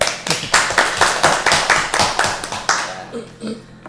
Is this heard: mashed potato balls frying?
no